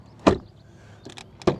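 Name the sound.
Volkswagen Tiguan car door closing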